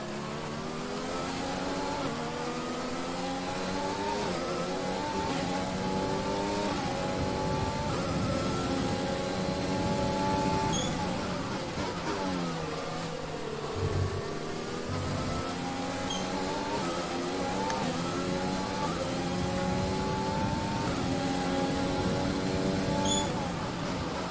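A Formula 1 car engine in the F1 2020 racing game, high-pitched whine climbing through gears in repeated upshift sweeps, steady and loud with a brief dip mid-lap.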